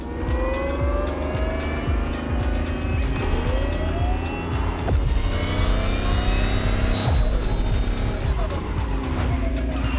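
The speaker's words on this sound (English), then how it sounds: "Kai got you your next killer partner, a 1970 Dodge Challenger" A 1970 Dodge Challenger engine in a racing video game rumbles steadily and revs up, with rising whines of acceleration over a constant loud drone throughout.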